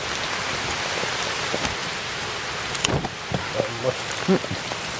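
Steady heavy rain pours down on a Kerala roadside area with coconut trees, a dense continuous hiss with a few sharper drops and knocks near the end, and faint voices underneath.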